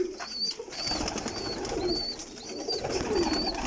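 Balance-type pigeons coo in repeated soft, rolling calls close by, several phrases spaced at a steady rhythm over rustling and background noise, without talking.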